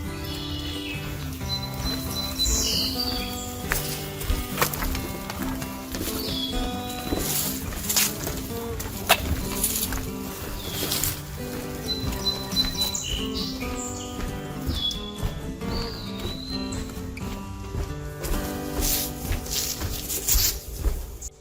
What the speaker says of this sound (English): We hear all kinds of frogs and birds